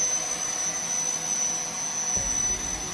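A 3D-printed VTOL RC trainer model, upscaled to 120%, hovers on its electric motors with a steady, loud, high-pitched whine and constant buzzing drone. No voices are heard.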